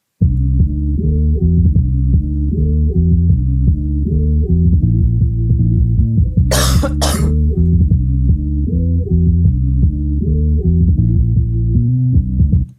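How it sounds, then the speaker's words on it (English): A deep, warm boom bap bass line with the highs cut loops steadily in a repeating pattern, loud and low, with a short burst of hissy noise cutting in midway. "So it's like a real organic bass line that really fits with the song."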